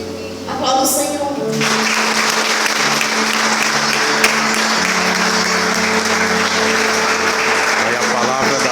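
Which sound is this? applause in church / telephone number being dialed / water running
applause in church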